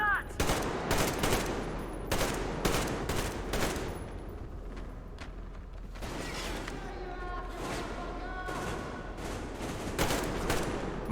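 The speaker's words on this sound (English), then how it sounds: "Covering fire for the Colonel. No saving ammo." Sustained covering gunfire in the Metro Exodus shooter game: dense rapid bursts of automatic weapons, loud and close, with short pauses and a few sharper single shots between the volleys.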